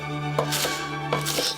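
A knife chops green onions steadily on a cutting board, a few quick crisp thuds with a faint background hum.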